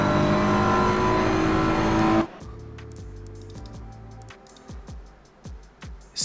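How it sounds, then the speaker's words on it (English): BMW M4 race car at full throttle at Oulton Park in Assetto Corsa Competizione, a loud sustained engine roar that cuts off abruptly, then quick stepped gear shifts and falling revs with sharp transient pops. "Hammer on that throttle all the way down"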